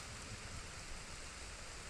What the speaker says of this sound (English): I do like, though, that it's raining.